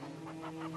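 Chickens on a farm cluck in a few short, soft bursts, with a steady low hum underneath for just under a second.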